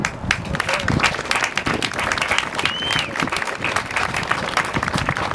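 Outdoor crowd at a Virginia Beach Veterans Day parade clapping loudly and steadily, dense applause with a few voices and whistles mixed in throughout.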